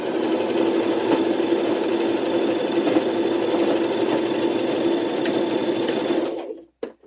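A sewing machine stitches fabric for a toiletry roll with a fast, steady mechanical whir close up, running continuously before stopping abruptly near the end.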